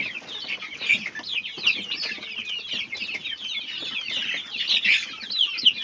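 Young village chickens, about one to two months old, cluck and chirp continuously and fairly close by.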